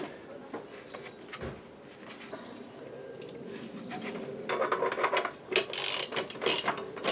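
A ratchet wrench clicks as the blade is tightened on a STIHL 655 cut-off saw, soft scattered ratcheting and metal handling that grows louder and busier toward the end.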